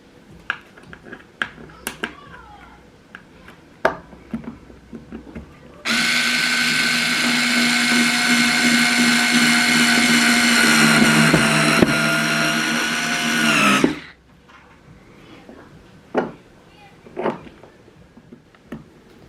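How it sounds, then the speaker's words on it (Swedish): A power screwdriver drives screws into parts of a DIY kitchen island, one sustained loud whirring run of about eight seconds, framed by quieter handling clicks and knocks before and after. "Så att jag skruvar fast dem."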